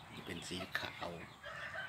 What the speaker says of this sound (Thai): ก็เลี้ยงไว้เพื่อฟังเสียงขันครับเป็นความสุขยามเช้าอย่างหนึ่ง